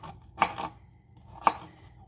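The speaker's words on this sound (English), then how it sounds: "just cut it up into pieces" Two distinct chops of a knife through a firm green apple on a cutting board, about a second apart, close and crisp in a quiet room.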